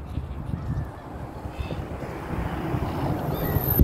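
Seagulls at Bang Pu seaside resort give a few short, faint calls over a steady, rumbling backdrop of outdoor noise and wind buffeting, with the noise growing louder toward the end.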